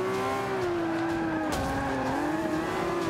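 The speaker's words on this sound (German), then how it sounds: "Ja, Massenkarambolage. Jeder in jeden rein." Racing engines in Forza Motorsport 5 on Xbox One during a multi-car pile-up, a sustained loud engine drone with shifting pitch and tire squeal, a brief sharp impact burst about halfway through, no talking.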